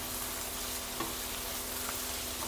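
Ingredients for Nepali home-style chow mein with tomato sizzle steadily in a hot pan, a broad continuous frying hiss with a faint stir or scrape near the one-second mark.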